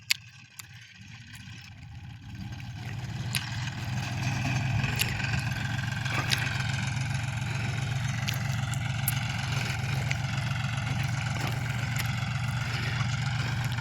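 A tractor engine runs steadily in a field, a continuous low mid-range drone that builds slightly and then holds at a constant level, heard from a moderate distance.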